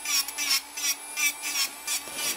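A nail file rasps across the surface of a fingernail in short, even strokes, about six or seven scratchy passes in a steady rhythm, close and clear with no talking.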